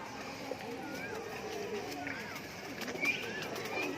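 Pahalwan-breed pigeons coo softly in low, rolling murmurs beneath someone speaking, with faint background rustle throughout.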